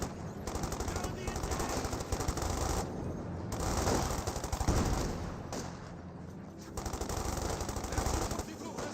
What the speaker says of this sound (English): I thought the base MG was firing there for a moment as well.